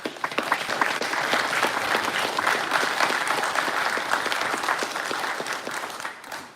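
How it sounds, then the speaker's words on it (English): Steady applause from an audience at a military detachment commissioning ceremony, many hands clapping evenly for several seconds before tapering off at the end, fairly close and without speech over it. "Give them a round of applause."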